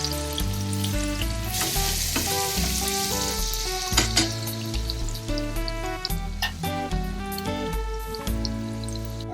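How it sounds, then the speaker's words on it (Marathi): Paneer fries in hot oil in a pan, a loud, steady, close-up sizzle with crackling pops throughout, joined by a background music track with a steady beat. "हे असं छान ब्राऊन करून घ्यायचं. आपले हे पनीर आता ब्राऊन झालेले सगळे."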